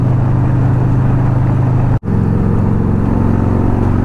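Motorcycles riding on a highway heading north toward Vancouver: steady loud engine drone and wind rumble throughout, with one abrupt brief dropout near the middle.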